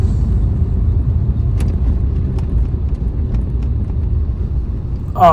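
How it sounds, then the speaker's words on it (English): A cheap old Mini car rumbles along on a test drive, its engine and road noise a steady low drone with occasional knocks, ending in a brief splash-like burst. "First thing we're going to do is take it for a 10-minute test drive just to make sure the car's actually worth doing."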